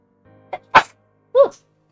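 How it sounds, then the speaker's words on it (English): A single sudden human sneeze comes after a short intake of breath and sounds close and loud. A brief vocal sound follows it in an otherwise quiet room. "I really hate those sudden sneezes."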